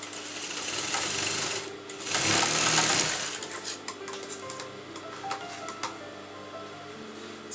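A sewing machine whirs in a fast, steady burst of stitching a lined kurta, then slows into scattered ticks and clicks.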